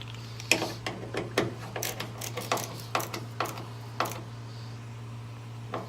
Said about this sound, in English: Put my screwdriver in drive.